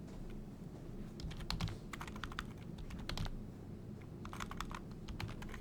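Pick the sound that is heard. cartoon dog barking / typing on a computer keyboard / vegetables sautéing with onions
typing on a computer keyboard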